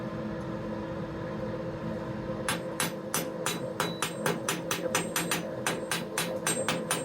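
A hammer chips slag off a 7014 stick weld laid with 1/8 inch rods from a Harbor Freight Titanium 225 welder, a run of sharp, close metallic taps after a few seconds of quiet room noise.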